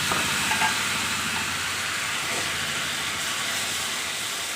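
A spice mixture is poured into a hot pan and sizzles in a steady, loud hiss that holds continuously from start to finish.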